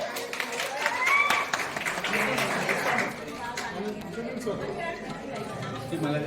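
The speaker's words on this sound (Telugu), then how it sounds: "ఏ అందరూ క్లాప్ కొట్టండి" Clapping and applause from a crowd at a 2004-05 batch get-together party, a lively patter of hands mixed with chatter and voices talking over it, fading after a few seconds.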